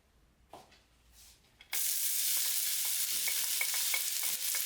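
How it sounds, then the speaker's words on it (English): After a few quiet clunks, onions hit hot lard and erupt into a loud, steady sizzle with occasional crackles and pops. "Sauté the onions until they are lightly golden."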